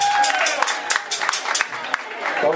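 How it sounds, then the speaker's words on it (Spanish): An audience applauding for a band, a burst of scattered clapping and crowd noise with sharp individual claps, fairly loud and close, with some voices mixed in. "Muy fuertes aplausos aquí para la banda."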